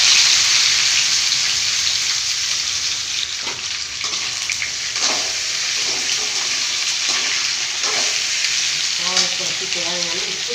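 Steady, loud sizzling of ivy gourd frying in hot oil with mustard seeds and chilli powder, with a few clinks and stirring scrapes near the end.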